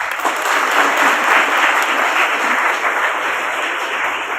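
A school audience in Kerala claps steadily for honoured students at a Girls' High School results celebration, a dense, sustained round of applause with no talking over it.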